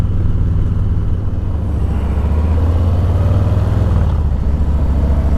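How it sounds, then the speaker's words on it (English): A motorcycle leans through a right-hand bend, its engine a loud, close, steady low rumble with a slight dip in tone midway. "The bike leans to the right and goes to the right."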